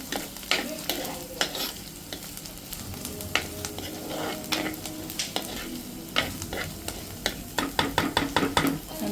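Onions frying in oil for a fish curry, a steady loud sizzle close by, with a spoon repeatedly scraping and stirring through the pan in quickening strokes and no talking.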